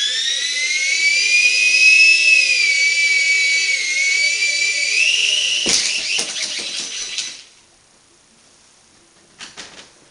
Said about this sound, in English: So I'll be standing in this corner flying the drone.